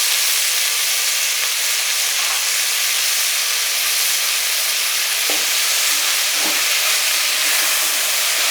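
A handful each of mint and coriander sautéing in hot oil for mutton biryani, making a loud, continuous hissing sizzle close by with a few faint stirring taps.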